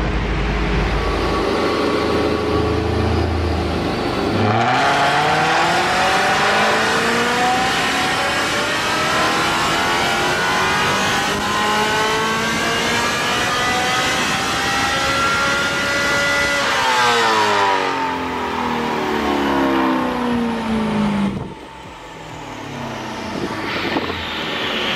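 A 2018 Shelby GT350 or 2009 BMW E92 M3 with intake and exhaust upgrades on a dyno, revving hard through long rising pulls, a very loud roar that climbs in pitch, drops, climbs again, then falls away.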